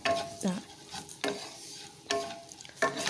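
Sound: stirring vermicelli with thickened milk in a pan

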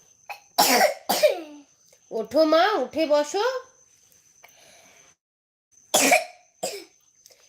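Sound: child coughing

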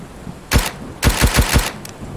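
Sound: rifle gunshots from the video game Road to Vostok

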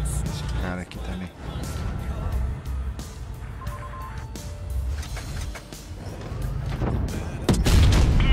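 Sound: gunfire in a video game

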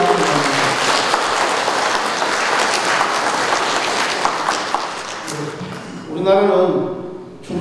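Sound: audience applause for the provincial governor

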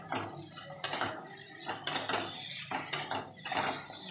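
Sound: stirring and frying spices with ginger paste in a pan

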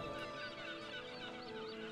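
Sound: chicken clucking in video game Divinity: Original Sin 2

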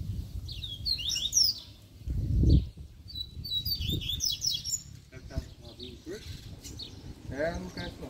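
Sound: Coleiro (double-collared seedeater) songbird singing

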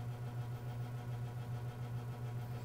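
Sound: 1994 Holmes Slimline box fan rattling on high

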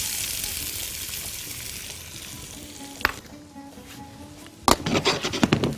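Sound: onion frying in a pan

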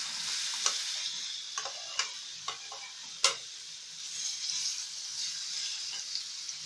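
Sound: diced apples frying in melted ghee

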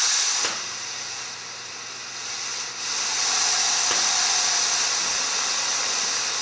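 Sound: lathe coolant system spraying cool air and coolant

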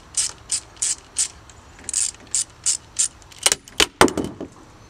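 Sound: ratchet removing a bolt on a crossbow

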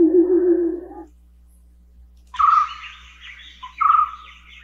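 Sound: birds chirping, sample of birdsong

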